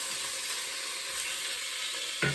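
Beef stew meat sears in a hot pan with a loud, steady sizzle and hiss, ending with a brief scrape or clunk, no talking.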